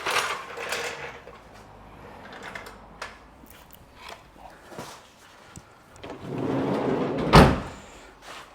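Faint rustling and shuffling, then a door swings shut with a single sharp thud close by near the end.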